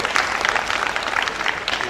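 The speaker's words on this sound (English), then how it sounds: "I think we all deserve a round of applause" An audience at a distinguished university lecture in a hall applauds, a dense, steady patter of many hands clapping close by, filling the whole moment without talk.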